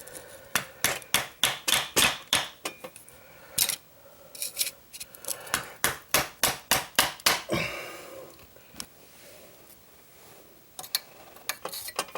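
Rapid metallic hammer blows ring out on the oil pan of a 2008 BMW 535xi in quick bursts, about a dozen sharp strikes, a pause, then another run of hits with a few scattered taps.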